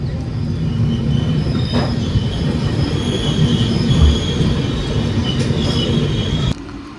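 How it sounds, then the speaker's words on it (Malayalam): Steady loud rumble of the Karnataka Sampark Kranti passenger train in motion, with wheel squeal and rail clatter, heard from inside; the noise drops suddenly near the end. "നമ്മളെ ട്രെയിൻ ഇപ്പോൾ ഓൺ ടൈം ഓടിക്കൊണ്ടിരിക്കുന്നു"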